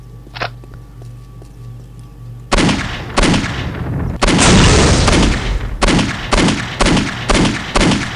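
Rocket launcher fire in the Postal 2 video game: a series of heavy, close booming blasts follows a short quiet lead-in, then comes a long sustained roar and a rhythmic run of repeated loud explosive hits.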